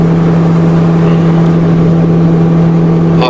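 A motorboat cruising on the water in the Danube Delta, its engine droning loud and steady from start to finish with a constant hum and a wash of water noise, and no talk over it.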